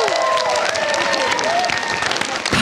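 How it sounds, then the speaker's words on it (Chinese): An audience at a televised celebrity debate show applauds loudly and continuously, a dense wash of clapping with some cheering and crowd voices mixed in. "是不是应该来点掌声加尖叫？"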